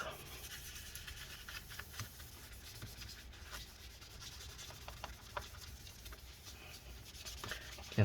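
Paper towel soaked in rubbing alcohol rubbed over a part inside a 2012 15-inch Retina MacBook Pro A1398, a close, soft irregular scrubbing and scratching that continues for several seconds, with no talk.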